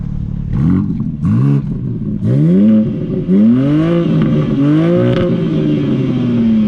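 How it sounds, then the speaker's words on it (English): A 2022 BMW M4 Competition xDrive engine revs repeatedly nearby, each blip climbing in pitch then falling back, ending in a longer rising rev before settling. "Not much induction, mostly just engine."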